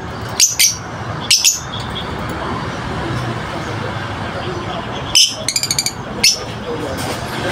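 Birds chirp in several short, sharp bursts over a steady low hum of road traffic; pigeons at a morning dovecote, with a voice speaking now and then.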